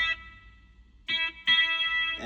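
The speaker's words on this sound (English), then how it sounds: "I believe a JC120 has built-in spring reverb" An electric guitar played through a Donner Arena 2000 multi-effects pedal with JC120 spring reverb: a short chord, a pause with faint ringing tail, then two more bright sustained chord strums that ring out.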